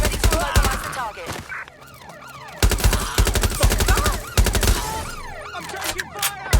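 Gunfire in Watch Dogs Legion comes in rapid automatic bursts of sharp, loud shots. Wailing police sirens sweep up and down between the bursts.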